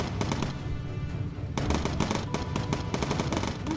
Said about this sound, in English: Use the low cannon.